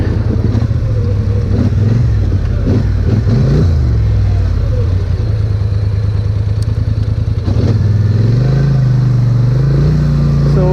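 A Polaris 850XP side-by-side climbing a steep, loose trail, its engine revving up and down in loud surges with clattering over rough ground and brief speech in between.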